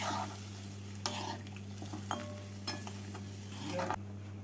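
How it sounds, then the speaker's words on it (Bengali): Spiced potatoes being stirred through a fish curry gravy in a pan, soft scraping and occasional utensil clinks over a low steady hum, close and fairly quiet with no voices. "এবার এই ঝোলের মধ্যে মশলার আলুগুলোকে ভালো করে নেড়ে নিচ্ছি"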